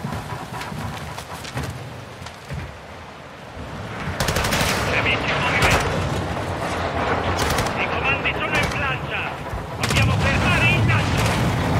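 Sustained automatic gunfire with heavy bursts and booming impacts in a Call of Duty: Modern Warfare II battle, loud and dense throughout, with a voice speaking over the shooting.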